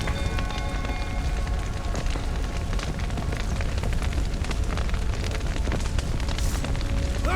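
Fire keeps roaring throughout as the burning stable roof in The Witcher 3 gives way, a dense crackling rumble with scattered cracks and crashes of falling timber, loud and continuous for several seconds.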